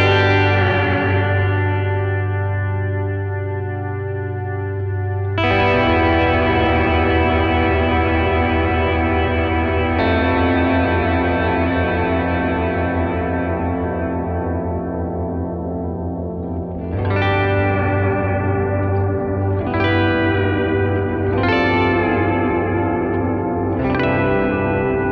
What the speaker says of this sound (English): plate, which is a high-end reverb typically used in studios and lends itself nicely to ambient